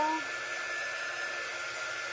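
A hair dryer blows steadily on a craft jar, a close, even airy whoosh lasting a couple of seconds with no talk over it.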